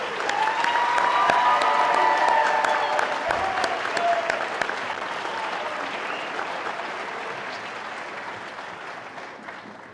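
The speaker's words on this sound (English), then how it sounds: "How about a round of applause for Class 55?" An assembled crowd at a fire and rescue academy commencement applauds the graduating class with sustained, full clapping and some faint cheering that slowly thins and fades toward the end.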